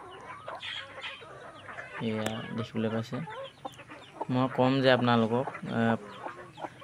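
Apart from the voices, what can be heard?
hen clucking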